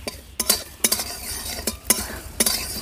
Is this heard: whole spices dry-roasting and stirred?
yes